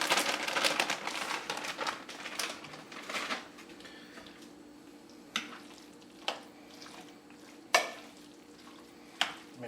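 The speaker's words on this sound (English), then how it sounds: "Mix all the chicken and the cheese sauce." Chicken and cheese sauce are stirred together for buffalo chicken Cheetos mac and cheese, starting with a run of thick, wet scraping and squelching close by. After that come a few separate sharp clacks of the spoon against the pan.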